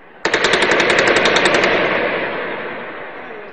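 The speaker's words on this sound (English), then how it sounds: "Gunshots can be clearly heard." Rapid automatic gunfire during street clashes near Liberation Square in central Cairo, a loud sustained burst of shots over about a second and a half, followed by a long echoing decay across the city.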